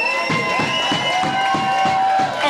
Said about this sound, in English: big round of applause once again for both fighters